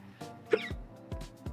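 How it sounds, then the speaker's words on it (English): A few sharp, short hiccups in a quiet room, spaced irregularly over the span, each a close, abrupt vocal catch with a low thud tail. "I already have hiccups"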